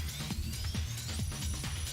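Heavy, driving instrumental video game boss battle theme from Jet Set Radio Future, with a thumping low beat about every quarter second and bright synth lines above, playing steadily throughout.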